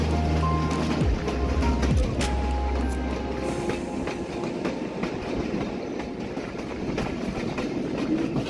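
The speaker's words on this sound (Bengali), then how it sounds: "ডাবল লাইন ক্রসিং দেখতে কিন্তু আসলে বেশ ভালোই লাগে" Passenger trains cross on a double-line railway in Bangladesh, giving a loud, steady rolling rumble with clattering wheels and bursts of rail noise heard up close.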